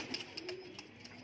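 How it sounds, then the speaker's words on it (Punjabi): Golden pigeons give soft, low coos in a brief, quiet burst, with a few faint chirpy notes over light background noise. "ਦੇਖੋ ਗੋਲਡਨ ਕਬੂਤਰ ਬਾਈ ਜਾਨ"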